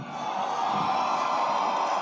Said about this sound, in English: Listen to that ovation for the tag champs.